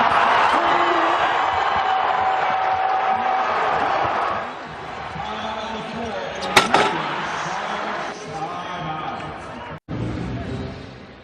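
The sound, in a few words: basketball arena crowd cheering at Save Mart Center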